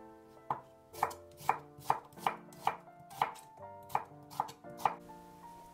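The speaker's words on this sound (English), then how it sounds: "Also cut 100 grams of mushrooms, 1 carrot in julienne, 1 onion in chunks." A knife chops mushrooms, carrot and onion on a cutting board, about a dozen crisp, evenly spaced knocks that ring slightly, close and clear with quiet gaps between.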